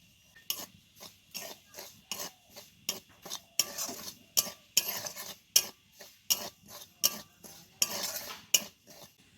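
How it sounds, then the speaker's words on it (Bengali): Semolina (suji) dry-roasting in a pan, stirred with a utensil in a steady rhythm of scraping strokes that stay close and moderately loud, with faint sizzle between the strokes and no talking. "এই সুজিটাকে কিন্তু খুব ভালোভাবে ভেজে নেব"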